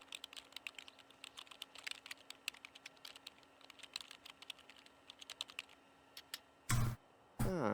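Quiet, rapid typing on a computer keyboard with irregular clusters of key taps, ending in two brief louder bursts of noise.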